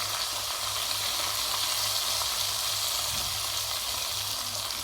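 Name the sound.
liver frying with added spices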